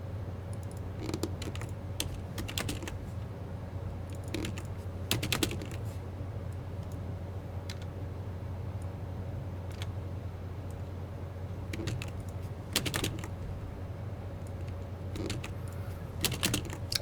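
Computer keyboard typing in steady bursts of key clicks, with quick clusters and brief pauses, heard close over a constant low electrical hum with no talking.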